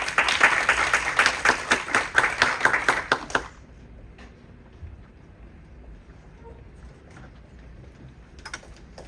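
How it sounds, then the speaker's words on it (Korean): An audience at an international sports forum applauds as a professor takes the stage, loud and dense clapping for about three seconds that then stops abruptly, leaving quiet room tone with a few faint stray claps. "큰 박수 부탁드리겠습니다"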